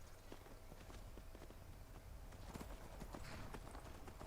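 Borrowed horse in the video game Skyrim clip-clopping at a steady trot, hoofbeats in an even rhythm over a soft ambient bed.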